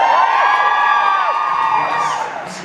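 A convention panel crowd cheers and whoops loudly and steadily, a dense wash of many voices that fades slightly toward the end.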